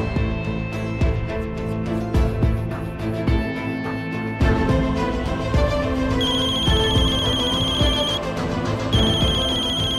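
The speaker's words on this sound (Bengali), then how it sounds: "শুনুন, আপনার ফোন এসেছে।" A telephone rings with a repeating electronic melodic ringtone. It is loud and close, with a sharp shift partway through to a higher, steadier beeping tone, and no voices over it.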